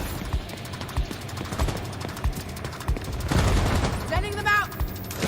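Bursts of video game gunfire crackle in a tactical shooter match, sharp repeated shots and rattling volleys mixed with explosions, with players talking over the action throughout.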